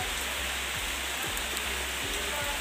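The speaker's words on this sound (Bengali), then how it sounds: "দেখো কত বৃষ্টি পড়ছে" Heavy rain pours down steadily, a dense continuous hiss of drops on surfaces with no voices, unchanging throughout.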